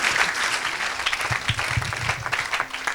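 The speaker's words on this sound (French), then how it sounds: "Est-ce qu'on peut acclamer pour Jésus?" A crowd at an evangelistic gathering claps together in sustained applause, a dense, moderately loud patter of hands that keeps going without a break, with faint voices mixed in.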